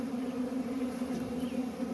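A swarm of honey bees buzzes around a bucket in a steady, close, continuous drone with a low hum.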